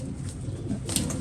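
A pigeon of a prized breed coos softly under a steady outdoor hum, with low throaty murmurs and one brief higher flutter near the end.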